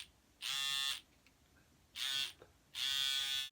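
Schick Hydro 5 Groomer beard trimmer buzzing in three separate bursts, each a steady high electric whine, close and fairly loud, with short quiet gaps between.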